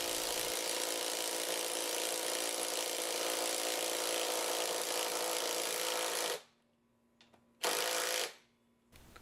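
A Ryobi 18V three-speed impact wrench drives a 6-inch, half-inch lag screw into wood with no pilot hole: a loud, continuous hammering whir, then two shorter bursts separated by quiet pauses.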